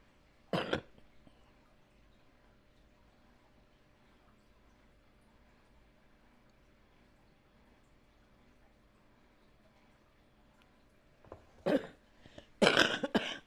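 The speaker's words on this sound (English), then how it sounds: "That's how I coughed all night last night." A single cough at the start, then long quiet stretch, and a burst of several harsh coughs near the end, close to the microphone.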